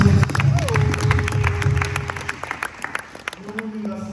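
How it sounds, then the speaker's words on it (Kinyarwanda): A church congregation at a pastor's installation service claps together, a short burst of applause following a spoken call, with a sustained tone at first and the crowd noise fading as voices take over. "Dukomere Imana amashyi."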